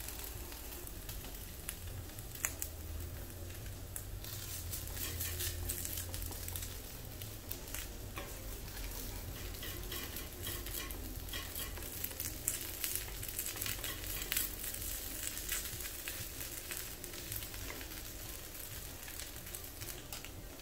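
Breakfast potato patties frying in a pan, a continuous soft sizzle and crackle with scattered pops, steady and fairly quiet throughout, with no voices.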